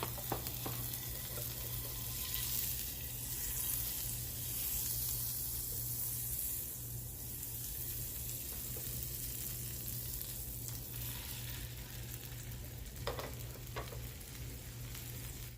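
French toast frying in butter in a pan: a steady, broad sizzle that runs throughout, with a few soft clinks near the end and no talking.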